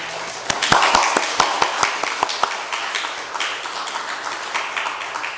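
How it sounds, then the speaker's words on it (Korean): Congregation at a Korean church Sunday service applauding to welcome a family, sharp individual claps at first building into scattered, moderately loud applause that gradually thins out. "우리 박수로 크게 환영해 주시면 좋겠습니다"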